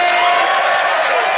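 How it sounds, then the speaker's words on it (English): Theatre audience at a live comedy podcast recording cheering and whooping with a loud crowd roar, sustained and close throughout the short moment. "please give a massive round of applause to Joe Lycett!"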